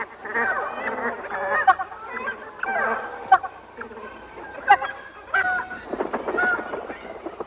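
A flock of snow geese on Wrangel Island in the Soviet Arctic honks steadily and loudly, with many overlapping calls and a few sharper cries standing out, and no talking.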